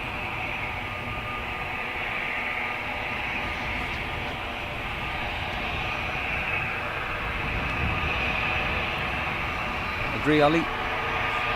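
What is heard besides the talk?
Airbus A320 aircraft departing Dublin for Geneva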